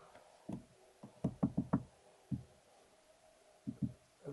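Knuckles rap on the light plastic interior door handle of a 2015 Mercedes-Benz GL 350 Bluetec SUV, giving close, dull hollow knocks in irregular bursts, a quick cluster of four in the middle, with no talk.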